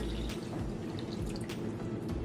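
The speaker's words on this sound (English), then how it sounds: "So the first thing we're gonna do is take our warm water. I'm starting with 2 cups of warm water" Warm water poured into a small bowl for bread dough, with splashy drips and a steady liquid trickle up close, no speech.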